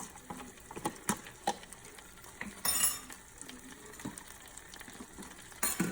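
Chopped onions frying in brown butter, a soft sizzle under intermittent clinks and stirring scrapes from a utensil in the pan, close and moderately loud.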